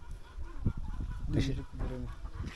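Rhode Island Red chickens on a farm in the Philippines cluck and squawk in short, uneven bursts, close by, mixed with someone talking.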